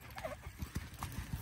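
Horses gallop along a track at Parque Guarani, hooves thudding in an irregular quick clip-clop beat at moderate distance, with faint voices and a brief whinny-like cry mixed in.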